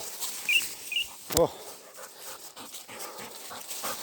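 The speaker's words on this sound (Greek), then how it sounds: "Τελικά την μπλοκάρισε ο σκύλος." Hunting dog out on a mountain partridge hunt, panting in short bursts with a brief louder vocal sound in the middle, close by, over faint rustling outdoor ambience.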